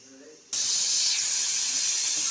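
A pressure cooker whistle lets off steam while sweet potatoes cook, a loud, steady hiss that starts abruptly and continues unbroken after a brief quiet moment.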